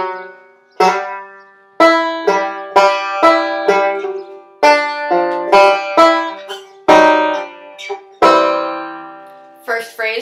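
A banjo plays a slow, chordy Reno-style lick as a series of bright plucked notes and chords, each with a sharp attack and quick decay, alone and close.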